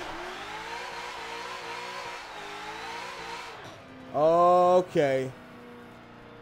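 A Formula Drift JTP Mustang in Forza Motorsport 7 with its transmission straining: a steady droning engine note with shifting pitch, then two loud, harsh revving bursts near the end, and a brief spoken word.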